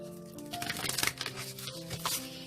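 Tarot cards are shuffled in a few quick riffling, papery bursts over steady background music, close and moderately quiet.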